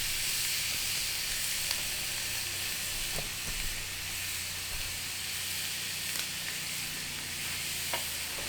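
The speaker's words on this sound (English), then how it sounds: "Hear that sizzle?" Reverse-seared tri-tip on a very hot tray in a Weber kettle grill gives off a steady, close sizzle and hiss with occasional faint pops and crackles throughout.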